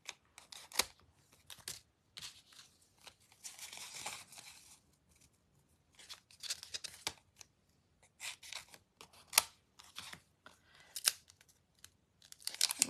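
Stuck die-cut pieces with an adhesive backing layer are bent and pulled apart, making close, scattered crinkles, snips and tearing rustles in irregular bursts separated by quiet gaps. No one speaks.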